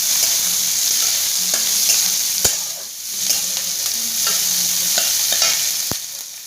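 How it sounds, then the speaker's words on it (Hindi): Onion frying in a pan for paneer paratha, a bright steady sizzle with slow stirring scrapes and a couple of sharp clicks from the utensil, close and fairly loud. "मैं इसमें डाल देती हूँ प्याज। इसको चला लेते हैं।"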